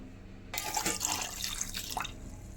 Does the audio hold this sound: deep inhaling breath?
no